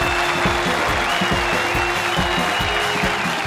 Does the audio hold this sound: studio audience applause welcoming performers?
yes